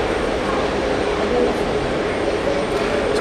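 An aircraft moves toward the runway at Hamburg Airport, a steady broadband engine roar that holds at even loudness throughout.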